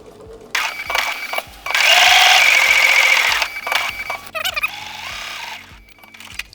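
A sewing machine quilting a chevron design runs in short mechanical bursts with pauses between, its rapid stitching whir rising and stopping, plus a few clicks and small handling noises.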